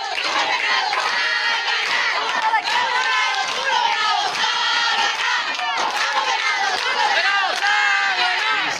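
Loud crowd at a football match, a dense continuous roar of shouting and cheering voices with no breaks across the whole stretch.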